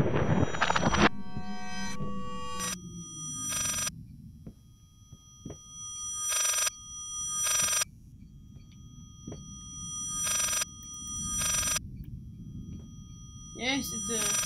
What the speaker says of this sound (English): Yes, it's a phone that's ringing